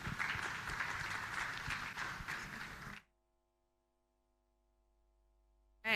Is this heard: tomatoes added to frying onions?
no